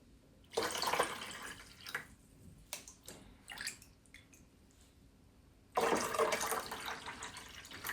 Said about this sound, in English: And I'm going to reduce the amount of water in there.